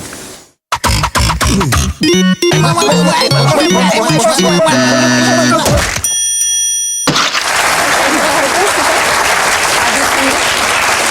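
A short musical jingle on a French TV game show, with a bright piano-like melody and bell-like tones, then loud studio audience applause and cheering that carries on to the end.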